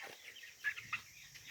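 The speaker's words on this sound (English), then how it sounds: "Cornish Rock Cross meat chickens." Cornish Rock Cross meat chickens, a broiler flock on day 23, give soft scattered clucks and a few short sharp peeps close by in a quiet barn.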